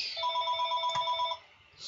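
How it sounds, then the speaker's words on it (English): A telephone rings in a room with two quick electronic trills, one after the other, clear and fairly near, then a short quiet before a third ring starts. "stupid freaking phone"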